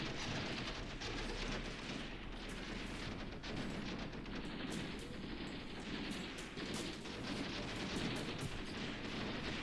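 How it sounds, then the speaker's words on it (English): Enemy mortar fire in the Graviteam Tactics war game, a dense continuous battle din of distant booms and crackling gunfire rolling steadily with no clear pauses and no speech. "You see some enemy mortars coming in."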